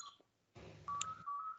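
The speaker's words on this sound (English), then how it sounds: "Sorry for the phone in the background." Telephone in the background of an online tech talk, giving short electronic tones and a sustained beeping ring at moderate level in an otherwise quiet room, with no one speaking.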